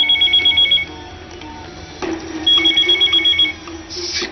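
A telephone in a Bhojpuri movie rings in two bursts of rapid electronic trilling, fairly clear over a low room hum with small knocks between the rings.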